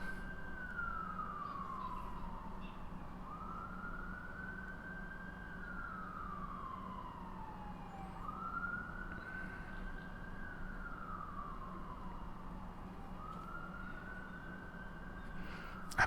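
An emergency vehicle siren outside sweeps up and down in a slow repeating wail, four long cycles heard from a distance over a constant low traffic rumble.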